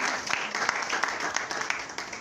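Congregation applauding at a church seminary service, a steady wash of many hands clapping with sharper claps poking through, fairly close and continuous without pause.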